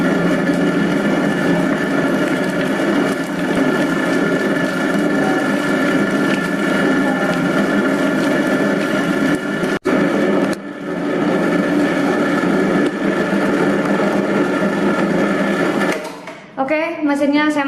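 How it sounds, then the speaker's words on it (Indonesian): An electric dough mixer kneads bread dough for Indonesian pull-apart milk bread, a loud steady mechanical whir with rhythmic thumping that runs without a break, cuts out briefly near the end and then stops. "mesinnya saya matikan, adonannya sudah kalis"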